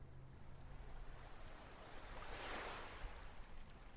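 Soft, distant ocean waves washing in a slow, continuous rush, one gentle swell rising and fading midway, faint and calm with no voices.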